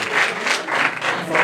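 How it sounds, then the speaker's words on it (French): An audience applauds at the launch of the WAKA well platform, a steady clatter of many hands swelling in rhythmic waves over about a second and a half. "On applaudit pour eux,"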